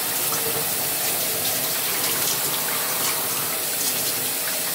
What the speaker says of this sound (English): I just washed the shampoo out